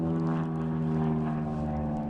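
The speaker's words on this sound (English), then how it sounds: "Oh, there's an airplane." A propeller airplane passes overhead near a freshwater trout-fishing spot, giving a steady low droning hum with layered tones that holds even throughout, distant but continuous.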